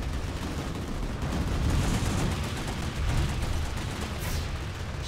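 Sniper rifle fire in the video game Planetside 2, steady dense gunfire rumble with a few louder swells, no voices over it.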